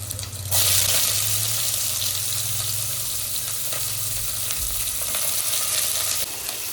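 Sliced onions sizzle and crackle steadily in hot oil for prawn biryani, with scraping stirs now and then over a constant loud frying hiss.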